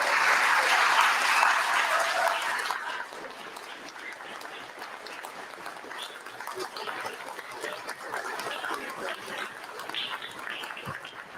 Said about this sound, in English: Would you all please stand up and give each of you a round of applause?